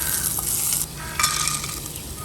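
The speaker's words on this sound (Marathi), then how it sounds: "धाकटोसो कांदो, व्हडलो न्हू. 2 ते 3 मिरसांगी, तुमकां जितले जाय तितले तुमी मिरसांग घालात. आतां हेका मातशें भाजून घेवया." Onion and a few chilies roasting in a pan for a Konkani peanut chutney give a steady close sizzle with faint stirring scrapes, brightening briefly midway.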